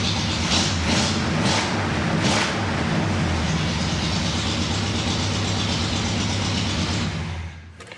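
A 1965 Chevelle SS with dual exhaust idles close by with a steady, throaty rumble and a few brief revs early on, running evenly before cutting off near the end.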